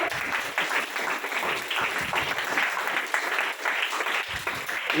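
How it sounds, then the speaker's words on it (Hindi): A church congregation at a New Year service claps hands steadily and loudly throughout, a dense, continuous patter of many people clapping together without a break. "ताली बजाओ ना यीशु के नाम से, हालेलुया। अरे जोर से बजाओ।"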